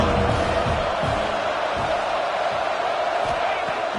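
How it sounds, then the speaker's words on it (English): A football stadium crowd roars in a steady, loud, continuous wash of cheering and shouting as the home defense tries to hold in the red zone during a Clemson game, with an announcer's voice faintly mixed in. "the crowd coming to life here trying to help this defense down in the red zone"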